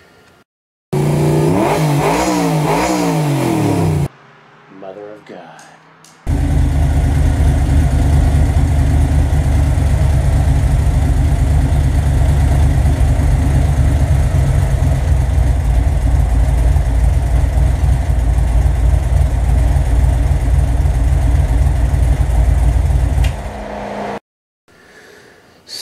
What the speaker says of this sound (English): that thing revs to the moon with very little throttle input